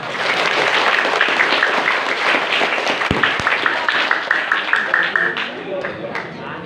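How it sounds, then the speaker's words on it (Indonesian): Applause from an audience at an Islamic religious talk: dense, steady clapping fills the clip, loud and close, with a couple of sharp thumps midway and a voice briefly audible over it. "Ya, beri tepuk tangan untuk Bu Halimah."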